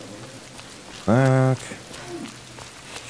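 Steady rain hisses across the whole scene in the video game Road 96, a soft even wash with a low hum beneath, briefly interrupted by a short spoken word.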